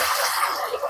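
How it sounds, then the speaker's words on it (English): Water from a snake's bath is poured out into a sink, a continuous close rushing splash with a few gurgling bumps near the end, heard alone. "Let's dump this water out."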